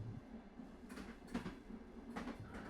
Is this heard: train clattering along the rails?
yes